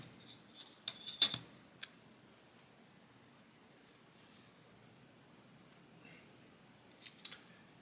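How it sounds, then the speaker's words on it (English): Paper creases and crackles as a paper model panel is folded, with a few sharp faint clicks and rustles separated by near silence, then two more small crinkles near the end. "This panel folds up, so I'm going to fold it"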